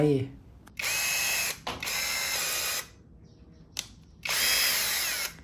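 A MASARU electric drill whirs in three separate bursts, each running steadily for about a second before stopping, with quiet pauses between.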